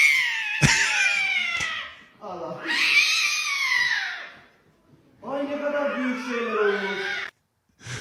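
A cat yowls and wails in long drawn-out cries while being handled and restrained by someone wearing gloves, loud and close, with short pauses between calls.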